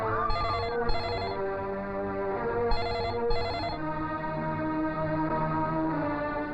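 A mobile phone rings in a Hindi action film scene, an electronic ringtone pulsing in repeated bursts over a steady musical background.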